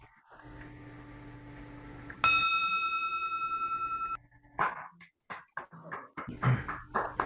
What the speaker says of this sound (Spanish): con el toque de campana final